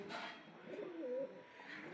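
Pigeons coo softly at close range, a few low murmuring calls rising and falling over about two seconds in a quiet loft.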